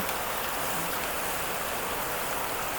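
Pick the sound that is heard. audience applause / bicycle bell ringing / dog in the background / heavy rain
heavy rain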